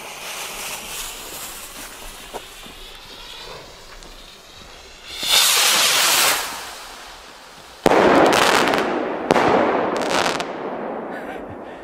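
A Fire Fantasy Color Burst fireworks battery goes off nearby: a whistling, fizzing lead-in is followed by several loud bursts with crackling tails, arriving in irregular shots toward the end.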